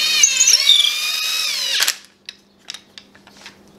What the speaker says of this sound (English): You can actually just screw it in like the screw is supposed to do.